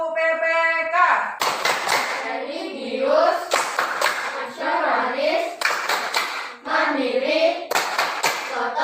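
Children clap a rhythmic Indonesian Tepuk PPK chant in a classroom, bursts of group hand claps recurring in a steady pattern around voices chanting words together, fairly loud and close.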